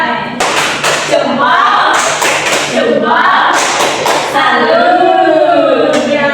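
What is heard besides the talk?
class doing rhythmic 'tepuk pucuk' appreciation clapping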